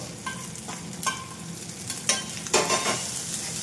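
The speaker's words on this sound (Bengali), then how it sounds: "সেই সময় এই মাছটা দিয়ে আমি এই শাপলাটা ঢেলে দেবো" Fish and water lily stems frying in a pan with garlic, a steady sizzle broken by a few stirring scrapes and bursts, close and moderately loud, with no talking.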